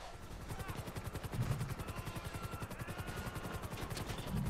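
A police helicopter gives chase in GTA V Online, its rotor a fast, even chopping pulse that holds at a moderate distance throughout, mixed with rapid rattling bursts like distant gunfire and with no one speaking.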